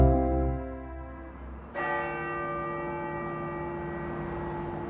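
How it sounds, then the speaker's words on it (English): Church bells of the Cathedral Basilica of the Immaculate Conception in Denver ring with a long, sustained resonant tone, and a fresh strike partway through renews the full ringing, which hums on steadily. "These bells rang at a service to remember him at the Cathedral Basilica of the Immaculate Conception in Denver."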